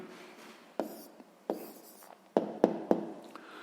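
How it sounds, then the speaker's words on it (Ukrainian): A pen writes an answer on paper, giving soft scratching strokes and a handful of sharp taps. The sound is close and quiet, with no talk. "Ну що ж, записуємо відповідь."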